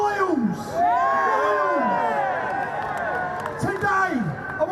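Protest crowd at a street rally, with a dense, loud roar of massed voices and shouts, rising whoops and cheers swelling above the din, and scattered clapping under a steady close wash of noise.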